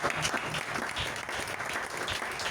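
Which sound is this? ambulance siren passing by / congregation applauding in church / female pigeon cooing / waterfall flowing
congregation applauding in church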